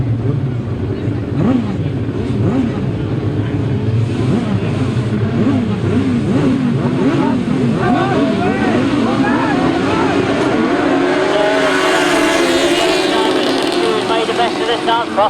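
Grasstrack sidecar racing motorcycles at an international floodlit meeting roar as a pack into the first turn, a loud continuous engine drone with rising and falling revs and a commentator speaking over it throughout.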